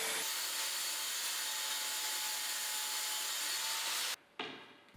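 A power saw cuts an MDF filler strip for kitchen cabinets in a steady, loud, continuous whine that stops abruptly near the end, followed by a brief spin-down.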